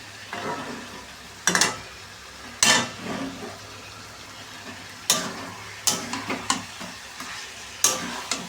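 Chicken pieces stir-fried with elephant foot yam in a pan, a soft steady sizzle under sharp scraping stirs of a spatula that come in short bursts, close and fairly loud, with no talking.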